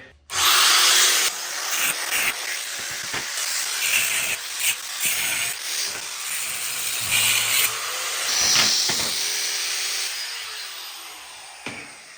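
A loud, close power saw with a fresh blade screeching through a steel Shovelhead motorcycle frame in long harsh bursts, with brief pauses and shifts in pitch as the cut progresses.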